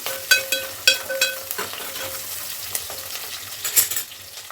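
Soya chunks (meal maker) fry in a pan with onion pieces for a pulao, a spoon scraping and clinking against the metal in several quick stirring strokes over a low continuous sizzle, close up and without speech.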